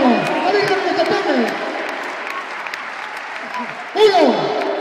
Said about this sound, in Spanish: Palmas. Palmas. Palmas.